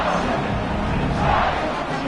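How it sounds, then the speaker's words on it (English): A stadium crowd in the college football video game NCAA 26 buzzes and roars after a score, a dense, steady wall of cheering voices without distinct words. "this crowd is buzzing after that last score"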